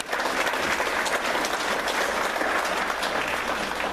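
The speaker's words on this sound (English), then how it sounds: "let's give them a big round of applause" A large audience at a Berks County Patriots political gathering gives a sustained, loud round of applause, dense clapping filling the whole stretch without pause.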